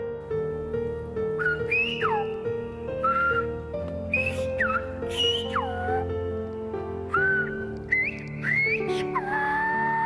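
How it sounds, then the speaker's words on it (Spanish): Silbo Gomero, the whistled language of La Gomera, sung out as a series of loud, sliding whistled phrases rising and falling in pitch, heard over a low sustained musical backing without speech. "El silbo corría desde las partes altas hasta el fondo del valle, anunciando noticias y solucionando problemas cotidianos"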